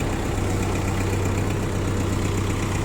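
A Mitsubishi MT23 mini tractor's cold engine idles steadily nearby, a low, even diesel-style rumble with a fine rhythmic knock that runs unchanged and alone.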